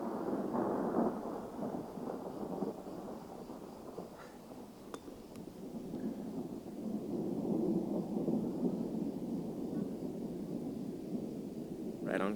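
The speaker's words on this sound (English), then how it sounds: "You hear that lightning and thunder?" Low rolling thunder from a storm in Tuscany, a deep rumble swelling and fading over several seconds under steady wind and rain noise, fairly distant.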